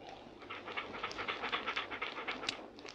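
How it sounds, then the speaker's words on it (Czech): A dog pants rapidly and steadily close by, a quick rhythmic run of breathy huffs with no voices. "Ten pes."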